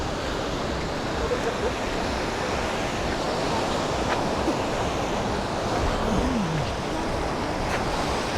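Ocean waves rolling in on a Bali beach with a rising tide make a continuous, dense roar of surf, heavily buffeted by wind against the microphone.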